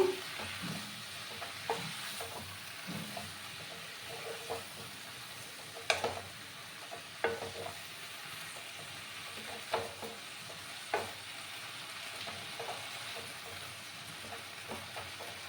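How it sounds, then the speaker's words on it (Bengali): Bottle gourd greens sautéing in a pan for a vegetarian moong dal, with a soft steady sizzle broken by scattered scrapes and clicks of stirring, fairly quiet and with no talk. "কিন্তু কষিয়ে নেব লাউ"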